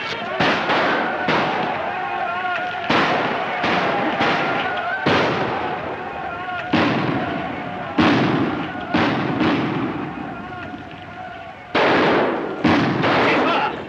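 A rifle volley in the 1941 war film 49th Parallel cracks out as repeated loud gunshots in rapid irregular bursts, dense and echoing throughout, with shouted voices among them.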